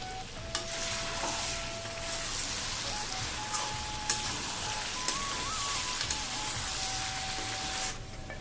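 Chicken curry for an Assamese local chicken recipe fries under a lid with a constant, soft hiss and crackle, broken by occasional clinks and taps, while a thin steady whine runs through it.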